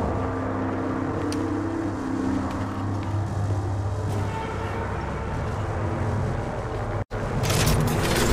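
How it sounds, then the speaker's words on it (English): An incoming care package in Apex Legends descends with a steady, rumbling whoosh and low mechanical drone, fairly loud, broken by a brief dropout and a sharper burst at the end. "hear that? There's a care package coming down."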